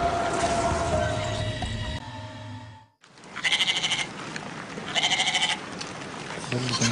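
A person imitates a goat, making a series of loud, close, nasal bleats after a brief pause, each call wavering like livestock.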